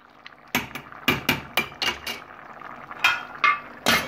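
A spoon stirring rice pilaf in a pot, about eight sharp metallic scrapes and knocks in an uneven rhythm, close and fairly loud with no talk.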